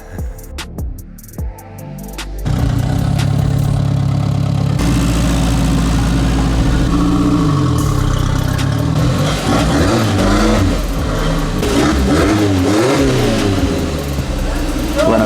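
A Renault 5 GT Turbo engine is revved hard and held under load as the car drives up onto a Woodford Raceliner 5000 trailer, a loud, close, continuous rasping drone that wavers in pitch, with a brief voice at the start.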